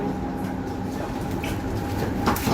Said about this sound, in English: we'll catch this train to Box Hill via the City Loop